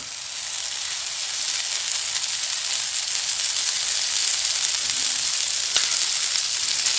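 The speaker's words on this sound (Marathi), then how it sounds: "कडेने तूप सोडून द्या" Bread toast sizzling in ghee in a pan makes a steady, close, bright frying hiss that runs unbroken throughout, with no talking over it.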